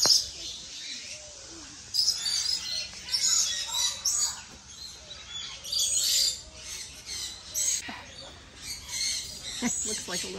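Parrots at Parrot Mountain and Gardens, an outdoor bird park in Pigeon Forge, Tennessee, squawk and chirp repeatedly in loud overlapping bursts close by, with busy chatter throughout.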